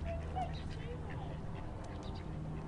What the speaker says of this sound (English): These ducks are putting up one hell of a fight.